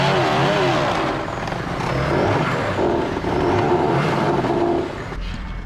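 A stuck Hummer H1 revs its engine hard and steadily while its wheels spin in place, a loud continuous roar that swells and dips across the whole stretch.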